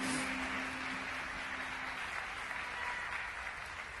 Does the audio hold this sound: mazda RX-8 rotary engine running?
no